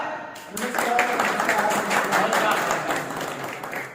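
Loud, dense applause from an audience welcoming a poet to the stage at a Marathi poetry recital, rising after a brief quiet start and holding steady throughout.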